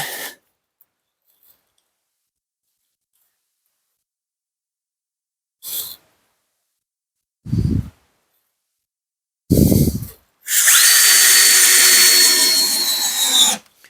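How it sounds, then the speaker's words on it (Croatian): An impact driver driving screws while fitting a small roof onto a little wooden house, heard as short separate bursts and then one longer loud whirring run after long silent gaps. "Uzmemo udarni odvijač, spremne pike, dignemo kućicu, postavimo je"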